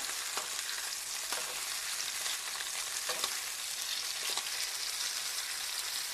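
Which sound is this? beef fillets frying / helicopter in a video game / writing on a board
beef fillets frying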